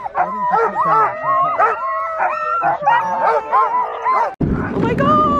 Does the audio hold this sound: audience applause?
no